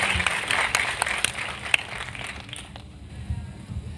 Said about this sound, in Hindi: जोरदार तालियां अपने